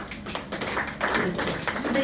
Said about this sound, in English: Clap if you give to charity